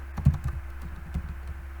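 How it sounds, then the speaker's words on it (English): Soft, steady keystrokes on a computer keyboard, a quick run of light clicks close to the microphone with no talking. "the last one I will just type in"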